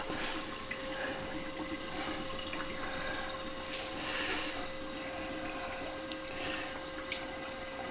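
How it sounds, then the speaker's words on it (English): Steady rushing and trickling of water refilling a reef aquarium sump, pushing air out of a reactor, a continuous close wash with faint gurgles and occasional bubbly bursts. "the water's filling in, and it's pushing the excess air out right here"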